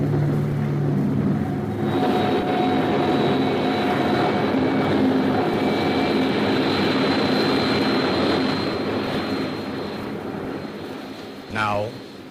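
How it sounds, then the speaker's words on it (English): An enemy jet bomber carrying an H-bomb roars overhead in a radio drama, its loud, sustained engine drone filling the whole clip with steady whining tones before easing slightly near the end. "This is an enemy bomber."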